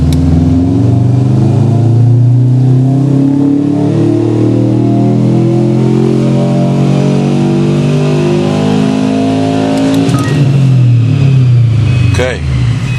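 2008 Subaru WRX with Stage II tune and a small turbo accelerating hard from low revs, a loud close engine note climbing steadily in pitch, then easing off near the end with a brief whoosh.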